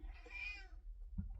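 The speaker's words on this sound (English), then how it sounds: "You're going to hear a cat meowing" A pet cat, a gray one indoors at home, gives one long, loud, drawn-out meow close to the microphone, followed by a brief soft thump and quiet room noise.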